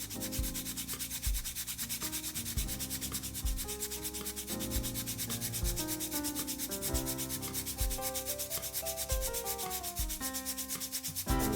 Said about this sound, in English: So I just use my sanding block.